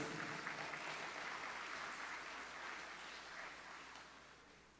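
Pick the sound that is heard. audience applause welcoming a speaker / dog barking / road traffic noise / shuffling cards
audience applause welcoming a speaker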